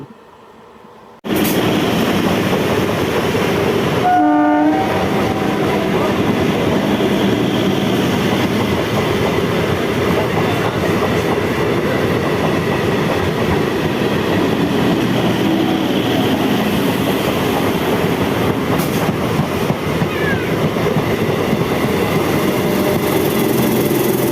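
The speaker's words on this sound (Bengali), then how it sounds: "এই যে ট্রেনটা আসছে দেখতে পাচ্ছ" A train arrives at a station, a loud, close, continuous rumble and rattle of rolling wagons that holds steady throughout, with no talk over it.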